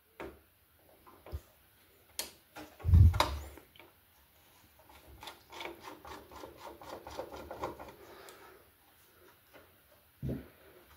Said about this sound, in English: Let me get a better screwdriver.